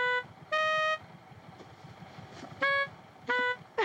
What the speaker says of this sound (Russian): Это клаксон для твоего авто